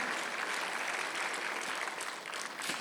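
Steady applause from a church congregation during a Sunday service, dense and continuous clapping filling the whole stretch without a break.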